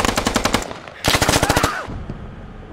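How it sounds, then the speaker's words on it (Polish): Automatic weapon fire in the video game Squad rattles out in two loud, rapid bursts, the second sharper and closer, with an echoing tail fading afterward and no voices. "Ła, strzelają!"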